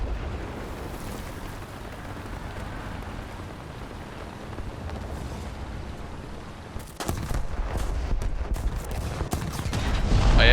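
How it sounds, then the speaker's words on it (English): Bombs from an attacking aircraft explode during a War Thunder tank battle as a heavy, continuous rumble. A sharper, louder blast breaks in partway through, and the roar swells toward the end. "I hear bombs, and it sounds big"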